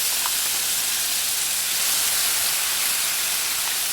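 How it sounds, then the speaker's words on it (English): Ginger paste sizzling in hot oil over a medium-to-low flame for a spicy ginger chutney, a steady, loud broadband hiss and sputter continuing evenly without a break and with no talking. "After it has spluttered, you can add the ginger paste into it."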